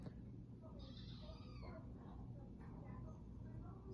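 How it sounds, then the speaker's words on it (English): Cat meowing faintly in a room, a few thin, drawn-out cries under a steady low background hum. "Your cat's suffering in the background."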